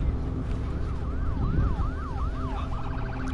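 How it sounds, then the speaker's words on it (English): An ambulance siren in The Last of Us video game wails with a rising-and-falling yelp over steady traffic rumble, switching to a faster pattern near the end. "Oh, ambulance."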